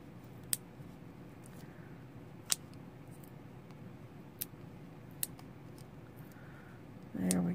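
Scissors cut foam dimensional adhesives for a card, giving a few sharp, isolated snips spaced about a second or two apart against a quiet room hum.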